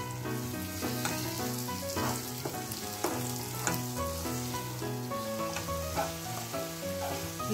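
Beaten eggs for egg bhurji fry and get stirred over high flame in a hot pan, giving a steady, close sizzle with background music and no voices.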